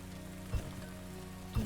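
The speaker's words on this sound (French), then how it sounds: "Donc là, il pleut." Rainfall in the video game Farthest Frontier, a steady soft patter across the whole stretch, with two brief low thumps and a faint musical hum underneath.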